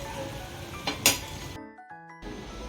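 Jowar upma is served onto a serving plate, with a couple of quick, bright clinks of utensil against dish over a low kitchen background, followed by a brief electronic tone.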